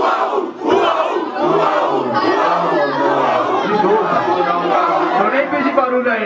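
Crowd at a street rap battle in Brazil cheering and shouting, a dense continuous roar of voices and chatter with rising yells, loud and near throughout.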